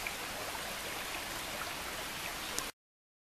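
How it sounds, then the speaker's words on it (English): Mill Prong Creek in Shenandoah National Park, at about 2,800 feet, flows with a steady, hissing rush of water. It is close and even, then cuts off abruptly near the end. "And here's what the creek looks like here."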